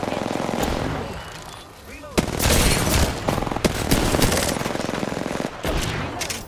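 An MP5 submachine gun fires in Apex Legends in loud rapid bursts of sharp cracks, with brief pauses between volleys and other battle noise around them.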